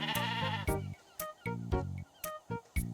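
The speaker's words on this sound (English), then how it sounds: "Okay, there's a random sheep." Bleating from a sheep in the video game Discounty, several short, evenly spaced bleats repeating over a few seconds, clear and alone, with no voices.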